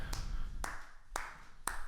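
Four sharp hand claps at an even, moderate pace, close and fairly quiet, each one a crisp isolated snap with near silence in between.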